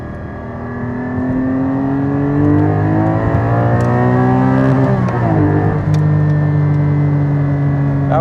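A Porsche 718 Cayman GT4 engine revs up in a long climbing pull in third gear, pitch rising steadily, then briefly drops and continues, heard close from inside the car.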